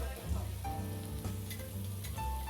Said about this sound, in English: Now let's just sit back and enjoy the sizzling sound of the Kobe beef.